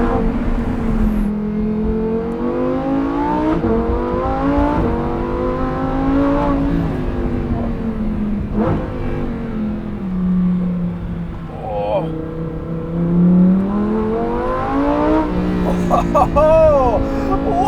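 A Corvette C8 Z06 accelerates hard, its engine climbing and falling through repeated rising revs and gear changes, heard loud and steady from inside the cabin while occupants talk over it.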